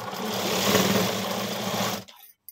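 Three stacked blouse pieces run through a sewing machine in one continuous, steady two-second burst, close and loud, ending abruptly.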